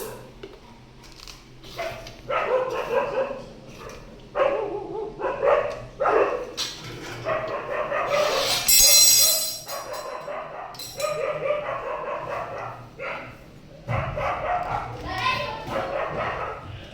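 Dogs bark and yip repeatedly in bursts, fairly close, mixed with whimpers, while people talk over them and something crinkles.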